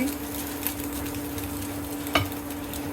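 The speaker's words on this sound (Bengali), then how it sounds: "এখন আমি এর ভিতরে নিম পাতাগুলো দিয়ে দিচ্ছি।" Neem leaves dry-roast in a hot pan on a kitchen stove, giving off a faint, steady crackle and sizzle with a light scrape or tap partway through over a low background hum.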